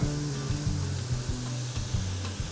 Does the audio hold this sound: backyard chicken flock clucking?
no